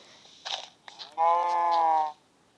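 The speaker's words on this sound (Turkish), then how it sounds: "Bir tane daha inek." Cow in Minecraft gives one sustained, fairly loud lowing call of about a second, after a couple of short rustling clicks, in an otherwise quiet scene.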